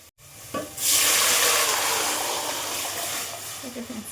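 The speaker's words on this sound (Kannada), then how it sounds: "ಇವಾಗ ಬೆಳೆ ನೀರು ಹಾಕಿ ಕುದಿಸ್ಕೊಳ್ಳೋಣ" Water is poured into a pan of frying onions for fenugreek-leaf sambar, a loud hissing sizzle bursting up after a brief clatter and then settling into a steady bubbling fizz, close by.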